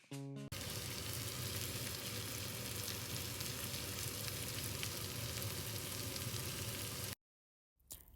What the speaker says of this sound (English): Now it's time to add the shrimp in that same grease that the sausage was in, just to get a little bit of crisp on the shrimp